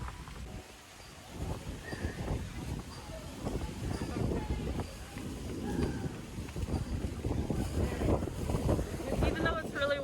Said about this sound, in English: Even though it's really windy